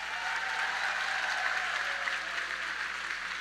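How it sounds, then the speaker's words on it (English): A large crowd applauds at a high school graduation ceremony, a steady wash of clapping from many hands that stays even and fairly distant for the whole stretch. "Let's give them a round of applause"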